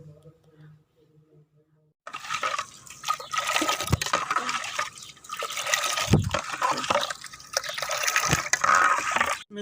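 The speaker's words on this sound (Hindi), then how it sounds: "अब इसको एक बारीक कपड़े की मदद से छान लेंगे, पानी अलहदा हो जाएगा" Coriander water for a jaggery sherbet being strained through a fine cloth, with sloshing, trickling and dripping liquid heard close up after a quiet start, while a voice talks at times.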